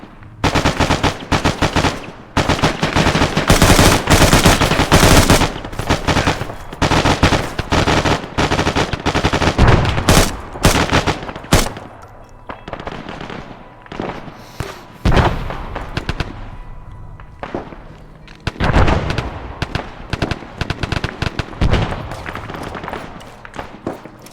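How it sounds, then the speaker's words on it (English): Dense, loud gunfire crackles in rapid automatic bursts during a military video game battle, with heavy booms mixed in, then thins into scattered shots and blasts later on, with no talking. "Mortar fire."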